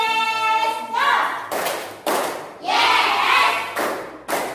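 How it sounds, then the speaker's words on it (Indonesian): Schoolchildren in a classroom perform the 'tepuk yes dos' clapping chant, with loud rhythmic claps in several bursts alternating with shouted chanting voices, all close by. "mari kita bertepuk yes dos terlebih dahulu"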